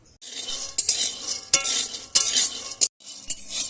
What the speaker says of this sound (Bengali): বাদামগুলো ভালো করে আমি ভেজে নেব